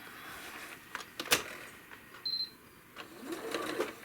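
A home sewing machine taking a few small stitches while quilting a cherry-pattern quilt: quiet, separate mechanical clicks and short whirring bursts close by, with brief pauses between them.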